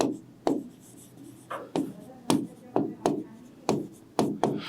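Chalk or marker strikes a classroom board as a teacher writes an accounting entry, giving about ten sharp taps and scratches in an irregular rhythm, close and fairly loud, with faint talk in between.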